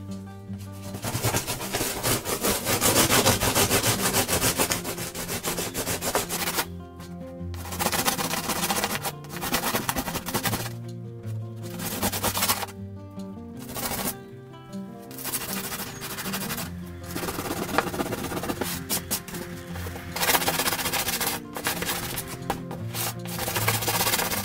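A rock scrapes the flesh side of a salted sheep hide during tanning. The rough, rasping strokes come close and fairly loud in uneven bursts, with a few brief pauses between them and no voices.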